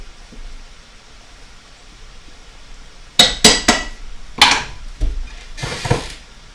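A spoon scrapes and knocks against a pot of grits cooked with Vienna sausage and beans, giving a few sharp clinks and scraping strokes in short bursts after a quiet start, near and fairly loud.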